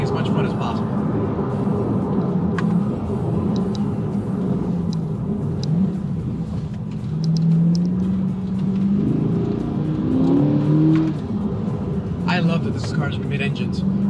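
A 2020 C8 Corvette engine drones and revs up and down, its pitch sweeping higher and falling back, loud and close throughout.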